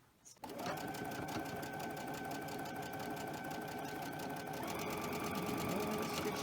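A sewing machine stitches fabric in a steady, fast, continuous mechanical whir that starts abruptly after a brief quiet moment and runs on evenly, fairly close and soft.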